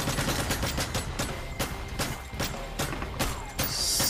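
Gunfire in Modern Warfare 3 multiplayer: a run of sharp, evenly spaced single and burst shots cracking out over constant background battle noise, loud and close, continuing steadily throughout.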